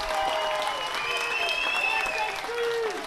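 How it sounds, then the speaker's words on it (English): A crowd of home fans at a college baseball playoff game claps and cheers in a steady, sustained wash of applause with a few whistles rising above it, heard from the stands at moderate distance. "The John Carroll faithful are cheering loudly here"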